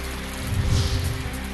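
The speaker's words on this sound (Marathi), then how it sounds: "रत्नागिरी जिल्ह्यातील लांजा तालुक्याला पावसानं झोडपलं" Heavy rain pours down steadily in rural Lanja taluka, Ratnagiri district, a dense continuous wash of rainfall with no voices.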